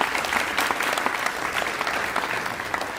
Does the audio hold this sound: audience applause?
yes